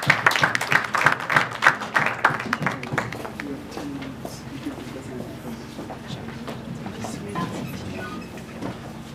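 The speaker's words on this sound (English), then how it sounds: "let's clap hands for Gweru as they come forward" Audience at a junior mayors and town clerks gathering clapping hands, loud rapid claps at first that thin out and fade after a few seconds, with voices talking underneath.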